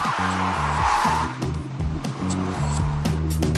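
A car makes a handbrake turn in a dead-end lane, its engine revving in uneven bursts while a tire scrub and skid flares briefly early on, close and loud.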